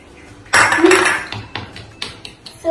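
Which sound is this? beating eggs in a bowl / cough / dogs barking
beating eggs in a bowl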